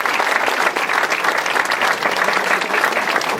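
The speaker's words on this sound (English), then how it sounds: "you should give all of yourselves a round of applause for what you've accomplished." Audience applauding at a company dedication day in Los Angeles, a loud, dense wash of many hands clapping that holds steady from start to finish with no speech over it.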